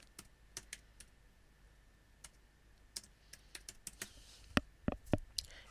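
Fingers tap out keywords on a computer keyboard in short, uneven bursts of crisp clicks, close and fairly quiet, with a few harder keystrokes near the end.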